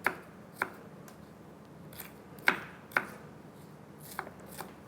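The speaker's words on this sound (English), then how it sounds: "then we chop our onions" Onions are chopped with a knife on a cutting board in a quiet kitchen, with sparse, irregular sharp knocks of the blade striking the board at close range.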